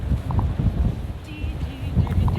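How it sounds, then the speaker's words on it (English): Strong wind buffets the microphone on a mountain trail at Torres del Paine, giving a loud, continuous low rumble with gusting swells throughout the short stretch. "Getting too windy for me and the rain's coming."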